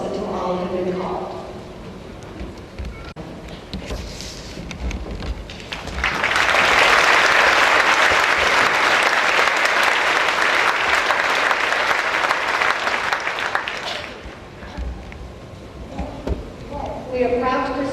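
Loud sustained applause from a large crowd at a graduation ceremony, swelling in for several seconds and fading, with talk over a microphone before and after.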